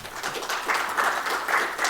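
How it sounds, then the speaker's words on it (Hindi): At a literary event in Jodhpur, an audience gives sustained applause, a dense, fairly soft wash of many hands clapping that swells slightly in waves. "जोरदार तालियों से दोनों का अभिनंदन"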